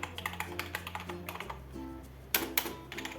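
Fingers type on a gaming keyboard, producing close, crisp key clicks in an uneven rhythm with a few louder clustered strikes.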